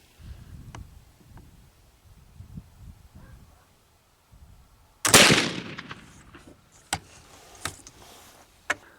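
A single loud shot from a black powder .44 Special reload booms mid-clip, following quiet handling and shuffling, then a few sharp clicks and knocks as the gun is handled afterward.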